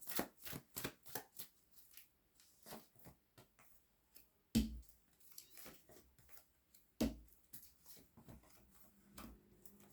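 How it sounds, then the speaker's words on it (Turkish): Tarot cards are handled and drawn from a deck, making quiet, close rustles and light flicks with two sharper snaps. "Bakalım şuraya bir kart daha çekmek istiyorum."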